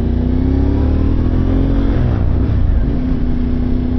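CF Moto 450MT motorcycle with a new Toto Pipes exhaust runs loud and close, its engine holding a deep, steady throaty drone that dips and rises slightly as it revs, with no talk over it.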